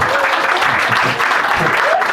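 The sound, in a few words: audience applause at a stand-up show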